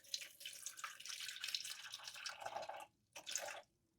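Water at 78 degrees pours into a sourdough mix in a home kitchen, a faint splashing trickle that runs for nearly three seconds, stops, then gives a short final burst.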